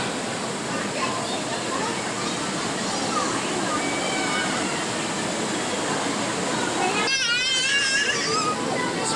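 Steady broadband roar of a waterfall fills the whole clip at close range, with voices talking over the rushing water throughout.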